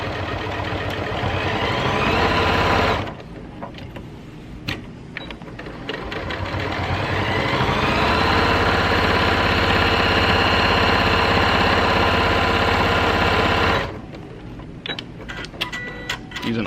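An Elna Elnita EF72 sewing machine stitches through denim, running loud and steady with a rising mechanical whir, pausing briefly around three seconds, then stopping near fourteen seconds before faint handling sounds.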